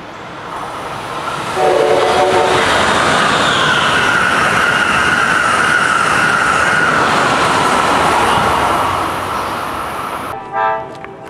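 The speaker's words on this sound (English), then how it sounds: "Speed up, you frickin' Amtrak train." An Amtrak passenger train rushes past loudly with a steady roaring rumble, a horn sounding briefly early on, then the noise fades as it moves away.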